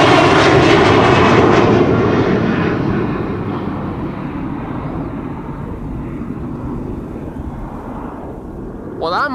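Jet airliner taking off from a runway at Amsterdam Schiphol Airport, with a loud engine roar that slowly fades as it climbs away, heard under wind noise with a brief voice at the end.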